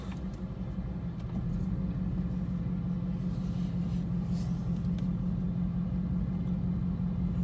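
A 2018 Dodge Charger RT with Super Track Pack and mid-muffler delete rumbles from inside the cabin, a steady low engine drone with road noise, no talking.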